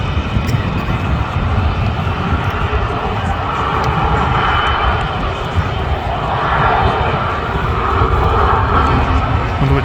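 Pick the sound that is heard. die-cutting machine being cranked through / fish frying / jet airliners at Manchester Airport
jet airliners at Manchester Airport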